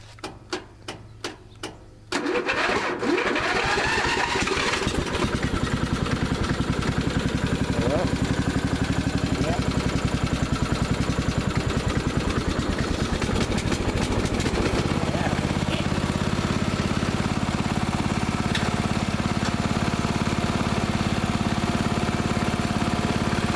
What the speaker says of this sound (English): All right, give her a little choke action there.